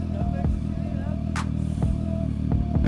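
A motorcycle rides along with a continuous engine drone and wind noise close to the microphone, punctuated by brief rattles and a short hiss.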